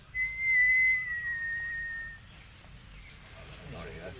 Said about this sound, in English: I'll give a whistle, if I may.